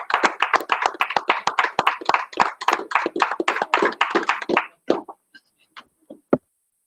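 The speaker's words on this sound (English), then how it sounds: "I'd like to ask our trustees to join me in a round of applause for our administration" Board trustees at a meeting give a short round of applause: a few pairs of hands clapping briskly for several seconds, then thinning to scattered last claps before stopping.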